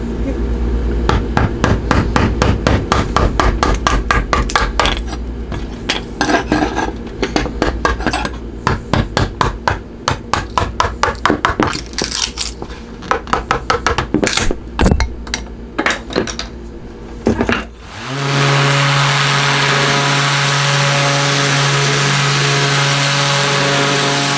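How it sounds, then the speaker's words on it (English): A series of sharp, rhythmic knocks and clatters is followed by a power sander starting up on boat interior veneer during a charter catamaran remodel, settling into a loud, steady motor whine. "So I'll show you, sand it off here in a second"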